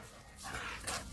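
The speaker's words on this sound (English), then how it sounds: "No more barking, please." A single short dog bark, fairly faint and a little distant, with no talking around it.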